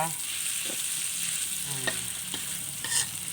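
Cooked noodles stir-fried in a pan for pad see ew, steady close sizzle with scraping spatula strokes, a few louder clatters near the middle and end, no voices.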